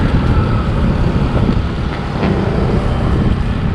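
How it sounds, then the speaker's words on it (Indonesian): Strong wind roars steadily and loudly across a town street in Pangkajene Kepulauan, South Sulawesi, blending with a dense broadband rush that may include passing road noise, with no talk. "di sini situasinya sekarang lagi anginnya sangat kencang banget ya guys ya"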